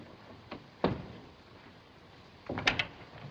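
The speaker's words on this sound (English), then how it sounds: "Shut the door." In a 1937 vintage film scene aboard a ship, a door bumps shut with a soft thud, followed by a second clunk and a brief rattle, all faint against a quiet background hiss.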